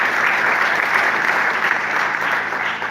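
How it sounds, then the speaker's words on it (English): Steady audience applause at a church gathering, a dense wash of many hands clapping at even loudness for about three seconds with no voices over it. "Can we give her a clap?"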